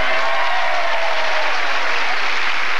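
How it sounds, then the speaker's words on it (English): Studio audience applause on the 1982 game show The Price Is Right, loud, dense clapping from a large crowd sustained without a break. "He's applauding, too."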